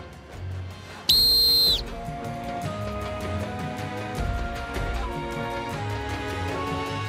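Shrill whistle blown once to start a race in a reality game show challenge on an island, a loud sustained blast of under a second over music, followed by continuing background music.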